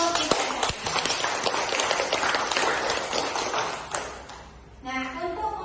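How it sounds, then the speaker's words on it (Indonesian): Classroom applause for students who have just presented their group discussion results, a dense burst of many hands clapping that fades out near the end as a soft tonal sound rises. "Sekarang kita aplaus dulu untuk"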